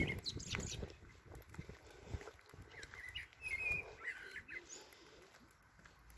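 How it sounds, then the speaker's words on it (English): Faint birds chirp and tweet in scattered short calls over quiet outdoor riverside ambience with light rustling and patter. "Very nice sound of bird and ducks."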